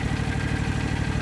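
A lawn tractor engine runs while striping a yard, a steady, close, even chugging drone with no voices.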